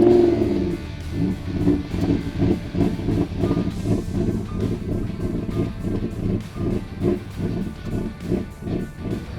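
An 800hp Lamborghini Huracan drift car with a nitrous setup fires up and settles into a loud, rough, lumpy idle with a steady pulsing throb, close by and alone.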